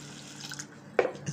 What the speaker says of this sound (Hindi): ये पानी डालते हैं इसके अंदर,